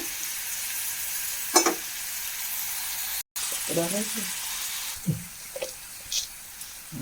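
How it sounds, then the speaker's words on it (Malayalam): Sliced onion frying in coconut oil in a pan, a steady soft sizzle running under the whole stretch with a few light stirring clinks and scrapes. "ചട്ടി വെച്ചു വെളിച്ചെണ്ണ ഒഴിച്ച് ഒരു സവാള വെച്ചിട്ടുണ്ട് ഇതൊന്ന് വാടി വന്നാൽ"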